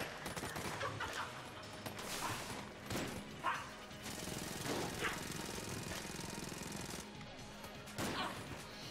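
A charged Zilla shotgun in Enter the Gungeon unleashes a dense, continuous barrage of rattling, crashing impacts and blasts for several seconds, loud and busy with game effects layered throughout, no speech.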